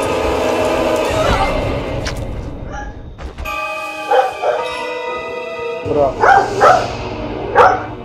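A dog barks repeatedly indoors at home during a delivery, the loud yips and barks coming in uneven bursts alongside people talking.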